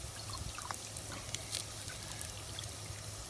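Water pours from a cup into a French M35 mess kit for cooking buckwheat, a quiet, close trickle and splash that runs steadily with a few brighter drips, no voices.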